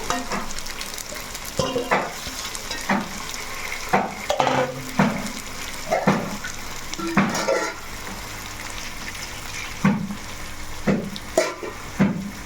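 Steady sizzling of fish curry in a pan after water is added, with repeated stirring scrapes and clinks at irregular intervals, close and fairly loud.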